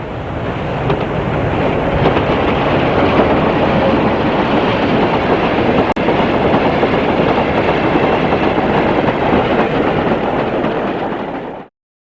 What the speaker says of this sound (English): 45009 travelling north at Clay Cross with mixed ballast wagons from Toton in March 1982